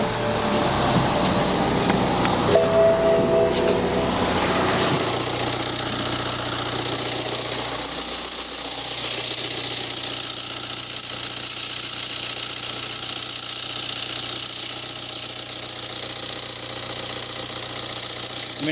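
A BMW car engine starts with a rough, rattling rev, then settles into a steady idle that hums on unchanged.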